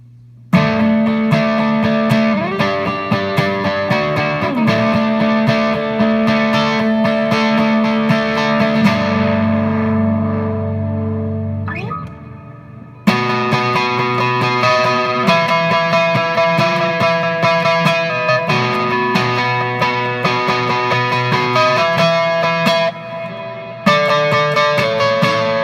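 Rhythm electric guitar played through a DOD 250 overdrive pedal with heavy, saturated reverb strums chords loudly and continuously, with a brief fading pause midway before the playing resumes.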